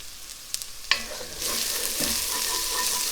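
Tomato paste hits a hot pot and braises: after a quiet start with a couple of clicks and a sharp utensil tap, a sizzle swells and then holds steady, with faint stirring scrapes under it.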